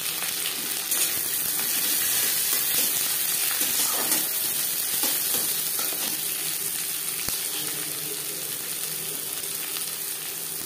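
Mustard oil sizzles in a pan as the base for chicken bhuna, a loud, even frying hiss that holds steady throughout with one faint click partway through.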